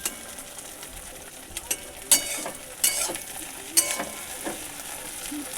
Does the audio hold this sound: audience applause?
no